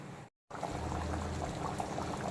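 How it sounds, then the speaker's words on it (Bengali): Mutton curry boils in its gravy in a karahi over a full flame, giving a soft, steady bubbling after a brief silent gap, fairly quiet and unbroken by voices. "বেশ কিছুক্ষণ মাটনটাকে ভালো করে ঝোলের সঙ্গে ফুটিয়ে নেব, একেবারে ফুল ফ্লেমে, যাতে কড়াইতে সমানভাবে আঁচটা লাগে।"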